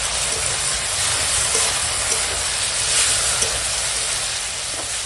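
Ginger, cumin and green chilli paste goes into a pan of frying, mostly melted tomatoes for a Bengali fish-bone chorchori, giving a steady, loud, close hiss and sizzle that carries evenly throughout.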